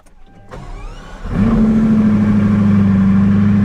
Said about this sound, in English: And then, engine start.